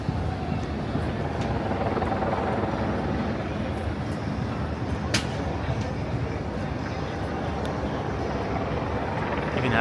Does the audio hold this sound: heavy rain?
no